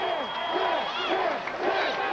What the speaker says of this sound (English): You hear the crowd chanting 10.